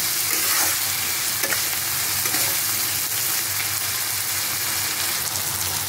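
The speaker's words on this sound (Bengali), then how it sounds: "একটু একটু ভালো করে আমি এটা কষিয়ে নেব" Masala with a little turmeric and sugar being stirred and fried in oil in a pan for a Bengali rohu fish chili, giving a loud, steady sizzle with scraping stir strokes throughout, no voices.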